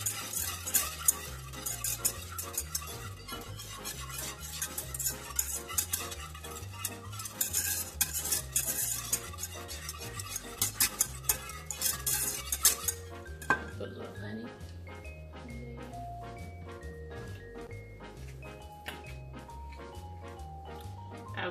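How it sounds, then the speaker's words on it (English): A spoon stirring mustard into a brisket sauce, close clinking and scraping against the container in a quick repeated rhythm, with a faint tonal background underneath. "So, we want to stir this up."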